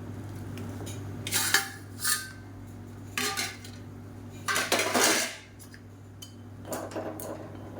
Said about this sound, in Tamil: நூடுல்ஸ் வந்து சேர்த்துக்கலாம்